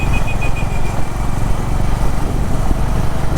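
Honda CB 350 motorcycle being ridden, its engine a steady, loud rumble with constant throttle and wind rush throughout, no voices.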